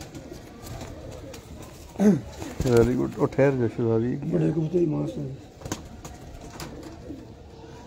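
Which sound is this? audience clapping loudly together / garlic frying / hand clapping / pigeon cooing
pigeon cooing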